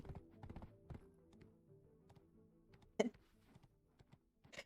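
Horse hooves clip-clop in the video game Black Desert, with scattered, irregular taps and thuds at a moderate distance and one louder, sharper hoof strike partway through, with no talking.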